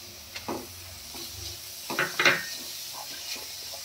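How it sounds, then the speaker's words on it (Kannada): Grated paneer fries in a pan for restaurant-style paneer burji, with a soft sizzle under scattered scraping and clinking strokes as a utensil stirs it close by. "ಇವಾಗ ಎಲ್ಲ ಫುಲ್ ಫ್ರೈ ಮಾಡ್ಕೊಳ್ಳೋಣ"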